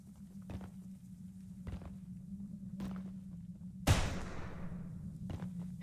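A single sharp gunshot cracks out in the horror game Choo-Choo Charles, its ringing tail fading over a steady low hum and scattered soft thumps like footsteps.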